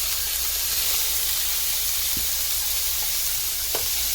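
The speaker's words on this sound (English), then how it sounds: "So I'm going to cook the meat." Pork pieces sizzle steadily in a hot pan for a stir fry with bok choy, a continuous close hiss with a few brief pops and stirring scrapes throughout.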